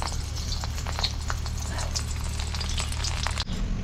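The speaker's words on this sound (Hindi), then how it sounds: "लोहे के कढ़ाइया में मैं छौंक रहा हूँ सब्जी।" Steady sizzling and crackling of vegetables tempering in hot oil in an iron wok, with scattered pops and stirring scrapes, close and continuous, ending with a brief clatter.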